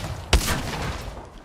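A single sharp gunshot cracks out in Apex Legends, close and loud, then trails off into a short echoing tail over low background game ambience.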